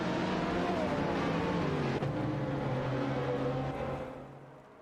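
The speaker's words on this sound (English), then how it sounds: "The race is tightly contested as cars shift positions across the track." Race cars in a simulated AI race roar along a track, a dense continuous engine drone with shifting pitches, loud throughout and tapering slightly near the end.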